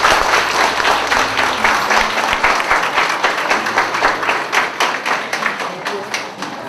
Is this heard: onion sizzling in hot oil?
no